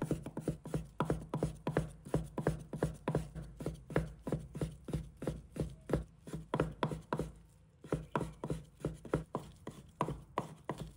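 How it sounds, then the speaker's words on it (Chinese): Rapid, steady knife chops on pork for a bun meat filling, a dense run of sharp strikes against a cutting board with a short pause near the middle, close and loud with no talking. "切完再翻面，果断下刀切断，切的时候得全神贯注，"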